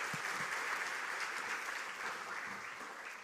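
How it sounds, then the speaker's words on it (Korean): A Korean church congregation at a dawn service applauds to welcome a preacher to the pulpit, a soft, even wash of clapping from many hands that fades slightly toward the end. "우리 박수로 환영합니다."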